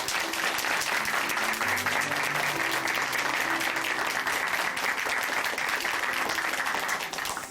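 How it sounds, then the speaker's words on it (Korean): Congregation at a church testimony program applauding, dense sustained clapping from a crowd, loud and continuous for several seconds with faint music underneath before tapering off. "권태림 자매님께 다시 한번 박수 부탁드립니다"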